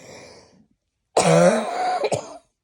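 A brief quiet murmur, a pause, then a single loud, harsh cough with a raspy throat-clearing quality, close to the microphone.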